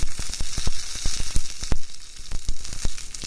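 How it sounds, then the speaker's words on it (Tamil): Mustard seeds, vadagam and dried red chilies sizzle and crackle loudly in hot oil for a South Indian snake gourd kootu tempering, with sharp pops scattered over a steady frying hiss. "கடுகு பொறிஞ்சு வந்ததும் வந்து வடவம் போட்டுட்டு ரெண்டு ச காஞ்சி மிளகா போட்டு"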